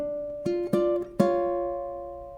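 Ukulele plays the first bar of the Habanera from Carmen, three plucked notes in a short descending figure on the top strings, each ringing and sustaining softly in a quiet, close take.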